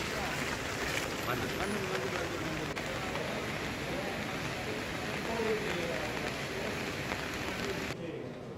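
Heavy unseasonal rain in Gir Somnath, Gujarat, during flooding over a causeway: a continuous, even rush of rainfall on surfaces, steady and fairly close with no distinct talk.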